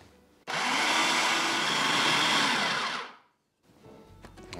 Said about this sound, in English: And then I'm going to run the machine just until a clumpy dough forms.